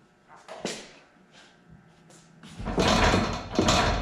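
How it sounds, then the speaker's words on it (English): A half door on a Can-Am Defender utility vehicle is shaken on its hinge pin, producing several light knocks and then a louder, sustained burst of rattling clatter close to the listener. "I don't like the rattling"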